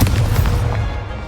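A single loud, close explosion from the Confringo fire spell in Hogwarts Legacy, a deep booming blast that rolls off and fades quickly.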